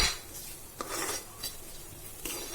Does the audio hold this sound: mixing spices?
yes